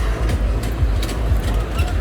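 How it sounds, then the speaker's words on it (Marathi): A low, steady rumble of a small ride-on toy train running at a beach fair, with faint rhythmic rattling and clacks throughout. "चालली आहे टॉय ट्रेन."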